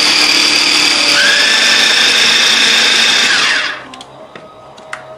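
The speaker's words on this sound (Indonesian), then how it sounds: "Nah, sekarang mau kita giling pakai chopper." Electric food chopper grinding bird's eye chilies and shallots, a loud steady high-pitched whir running for several seconds before cutting off abruptly, followed by faint clicks and clatter.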